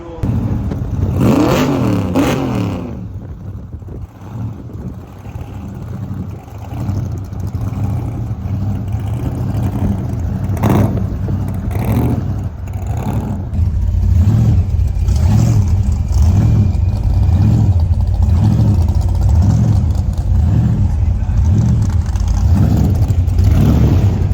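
A Chevrolet Corvette Stingray and a fifth-generation Camaro idle and rev at a gas station during a rod run car show, with steady loud engine rumble, a couple of sharp revs early on and a deeper throbbing idle building later.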